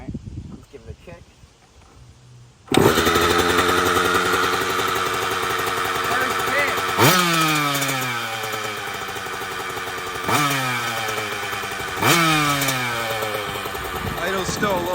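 A dirt bike engine is kick-started and settles into a loud, steady idle close by, with sharp throttle blips that rise and fall three times over the running engine.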